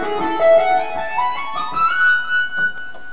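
A keyboard plays a solo, a quick run of bright single notes climbing stepwise in pitch, fairly close and steady in level, with no talking.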